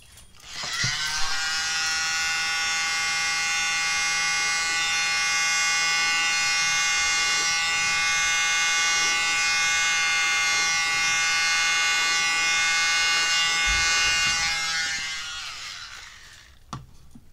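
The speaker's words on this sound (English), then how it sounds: "So grab a mini blower." A small electric mini blower runs close by with a loud, steady, high-pitched whir that holds for about fourteen seconds before winding down.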